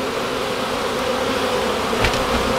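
Bees buzzing steadily in a dense, continuous drone while comb is removed from a beehive during a rescue of a hive troubled by ants and termites; close and fairly loud, with a brief rustle near the end.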